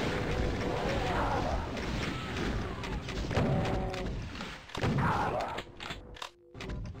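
Rockets fired in Doom 2 blast in a run of heavy, muffled explosions and rumbling thuds over a dense churning mechanical bed, with two stronger booms near the middle before it drops away and falls quiet.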